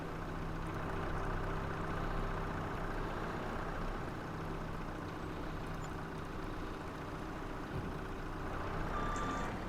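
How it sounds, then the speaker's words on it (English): A forklift reverses in Farming Simulator 25, its steady series of beeps sounding over a low idling engine drone that stays constant and moderately loud throughout. "That is one of the smoothest fork trucks I've used in the game."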